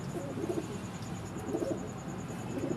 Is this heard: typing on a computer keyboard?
no